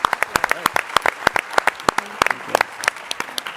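Audience clapping after a pitch session at a startup competition, crisp individual claps forming a brisk, uneven patter of applause that carries steadily throughout, with faint voices mixed in.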